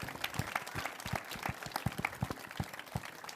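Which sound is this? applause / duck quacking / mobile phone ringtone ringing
applause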